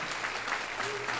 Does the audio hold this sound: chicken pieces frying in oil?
no